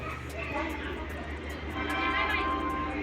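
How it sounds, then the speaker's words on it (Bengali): A train pulls into Malda station with a low rumble and rhythmic clatter of wheels, while a person talks over the noise. "ফাইনালি আমাদের তো ট্রেন চলে এসেছে"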